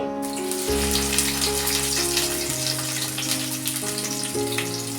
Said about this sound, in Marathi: हे बघा तेल गरम झालेलं आहे याच्यामध्ये मी कांदा घालते